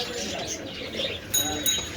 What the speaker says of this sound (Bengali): এইদিকে সব ধরনের কবুতর রয়েছে